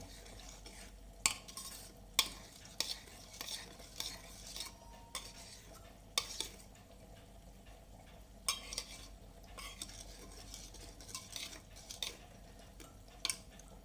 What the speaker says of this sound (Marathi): आणि ही साखर या दुधामध्ये पूर्ण विरघळवून घेऊ